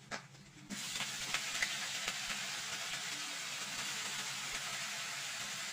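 Chopped chut koloi greens dropped into hot oil with ginger, a sudden loud hiss that settles into a steady, close sizzle and keeps going without talk.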